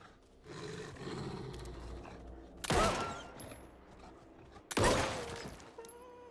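A wolf attacks in the survival horror game Alan Wake 2, letting out two loud, sudden roaring snarls about two seconds apart over a low, rumbling game ambience.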